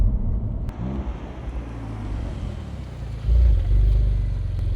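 A Porsche 911 launching under launch control with PSM stability control off, a deep engine rumble building into a loud, surging low roar of acceleration toward the end, no talk.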